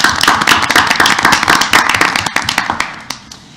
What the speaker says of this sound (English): let's give all our social workers a little bit round of applause